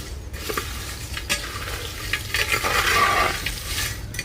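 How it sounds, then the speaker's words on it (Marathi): Garam masala spices dry-roast in a pan, a steady rustling sizzle with repeated scraping stirs and light clinks of the utensil, fairly loud and close. "आता हा उरलेला गरम मसाला वहिनी भाजून घेते"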